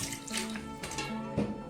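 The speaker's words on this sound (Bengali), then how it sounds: "স্ট্যান্ডের মধ্যে 300-350 ml এর মধ্যে জল দিয়ে দিচ্ছি।" Water is poured from a tap or jug into a metal idli steamer stand, about 300 to 350 ml, a short steady splashing trickle close by with faint ringing tones.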